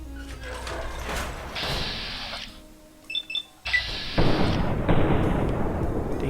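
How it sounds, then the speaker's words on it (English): Sniper rifle shots in Fallout: New Vegas, a few sharp, loud cracks with ringing tails, separated by quieter game ambience and short metallic clicks. "This time, let me use my sniper rifle."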